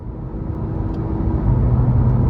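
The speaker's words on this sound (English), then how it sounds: "I'm ready to go ahead and take this 2018 Porsche 911 Carrera 4S out on the road for a test drive" A 2018 Porsche 911 Carrera 4S with a 3.0-litre twin-turbo engine pulling away on a test drive, a deep loud rumbling engine note that builds steadily and stays low and close, no voices.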